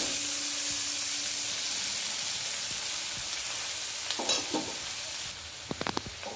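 Kolai greens with chopped ginger and slit green chillies frying in a pan, a steady close sizzle with faint stirring and a few sharper scrapes near the end, no voices.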